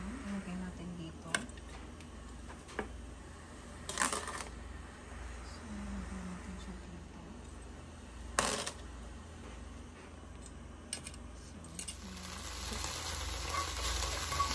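Butter sizzling in a pan as gravy sauce is started, a quiet steady frying hiss with occasional clinks and scrapes of a utensil, a voice speaking over it at times.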